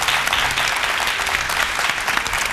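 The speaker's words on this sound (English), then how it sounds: "A round of applause to Leader 5." Audience on a leadership competition show gives a loud, dense round of steady applause, continuous and full throughout with no talk over it.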